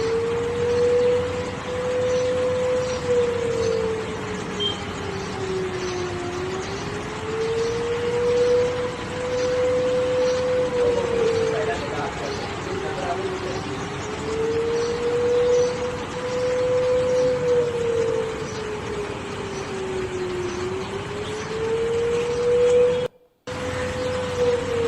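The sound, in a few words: emergency sirens sounding in Islamabad, Pakistan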